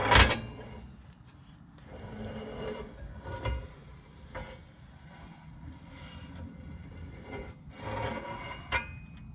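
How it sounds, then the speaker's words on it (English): On a 2003 Lincoln Town Car, a worn axle shaft slides out of the axle housing with close, scraping metal rubs and a few knocks, starting with a sharp clank. "you can just slide this axle out"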